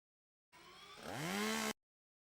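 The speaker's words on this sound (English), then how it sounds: "Chainsaw!" A video game chainsaw revs up in a short, loud burst that climbs in pitch and then cuts off abruptly, with no voices.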